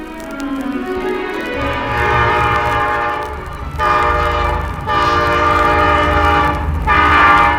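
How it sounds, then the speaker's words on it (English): A train rolls past at close range in an audio drama sound effect, its horn blaring in long sustained blasts over a low rumble of wheels, loud and continuous throughout. "A train."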